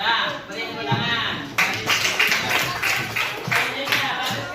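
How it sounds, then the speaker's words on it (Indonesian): Schoolchildren in a classroom clap their hands together in a short, busy burst of claps that carries over the room's background noise, with some talk around it. "beri tepuk tangan"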